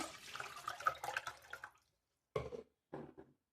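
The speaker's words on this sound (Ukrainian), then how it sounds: "Наливаємо літр води," A liter of water is poured into a pot to make syrup for pumpkin juice, a close splashing pour for under two seconds followed by two short separate splashes in an otherwise quiet kitchen.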